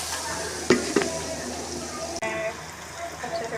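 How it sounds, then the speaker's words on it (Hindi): Garlic ginger paste with dried coriander frying in a pan with onions, a steady close sizzle broken by a couple of sharp spoon knocks and stirring scrapes, then a fresh hiss as more goes in. "अब इसको डालेंगे, इसको अच्छे से फ्राई करेंगे।"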